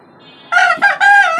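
A native deshi rooster crows from a caged chicken farm on a five-storey house rooftop, one loud, close crow in several drawn-out harmonic phrases breaking from a quiet background.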